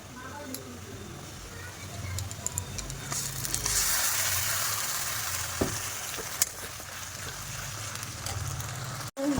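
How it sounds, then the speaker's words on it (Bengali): Spice paste sizzles and fries with onions in a pan while cooking chicken kosha at home, a steady soft crackle with occasional stirring clinks and someone talking over it. "মশলাটা ভালো করে ফ্রাই করবো এবার"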